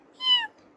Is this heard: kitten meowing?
yes